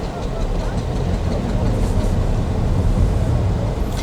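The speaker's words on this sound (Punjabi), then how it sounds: "ਆ ਦੇਖੋ ਟਰੈਕਟਰ ਜਾ ਰਹੇ ਨੇ" Tractors roll past at a farmers' protest camp on the Khanauri border, a steady, loud low engine rumble that holds throughout with no break.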